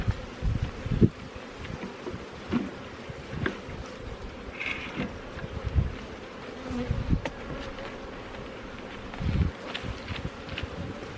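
Honeybees buzz steadily around a beehive in an apiary in spring, with individual insects droning close past at intervals against a soft outdoor background.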